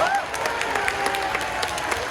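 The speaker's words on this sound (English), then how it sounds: "Let's get a round of applause for weed deregulation." An audience at a live convention Q&A panel breaks into applause, a dense patter of clapping with a few faint cheers throughout.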